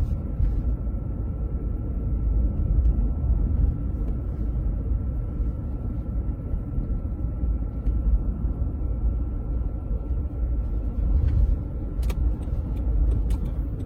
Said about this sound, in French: On met légèrement les gaz pour maintenir la vitesse.